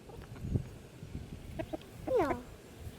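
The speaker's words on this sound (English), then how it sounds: "how's our little hen today?" Backyard hen clucking close by, with short soft clucks and then a rising squawk-like call over quiet outdoor background.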